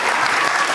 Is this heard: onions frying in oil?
no